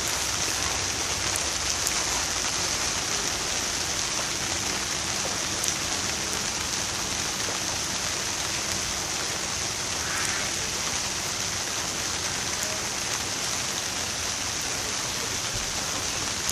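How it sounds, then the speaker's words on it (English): Steady, dense rainfall patters on surfaces all around, a constant hiss with no pauses and no voices. "It's nice standing here listening to the rain."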